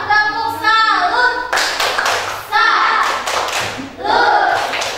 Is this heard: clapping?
yes